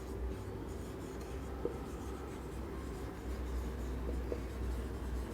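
Marker or chalk writing on a board during a class-3 maths lesson on subtraction word problems, a soft steady scratching that runs the whole time under a low room hum, with a few faint taps.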